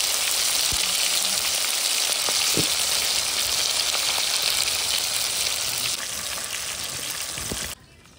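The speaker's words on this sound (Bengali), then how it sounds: "সবার জন্যই গোটা গোটা ভাজা।" Whole pomfret fish fry in hot oil with a loud, dense crackling sizzle that holds steady, dropping abruptly near the end, no talking.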